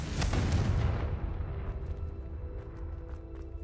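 A loud, close spell blast in Hogwarts Legacy, a Confringo fire-curse explosion that booms at once and then fades into a lingering low rumble with faint crackling.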